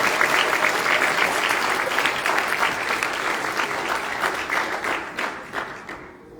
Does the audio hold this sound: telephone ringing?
no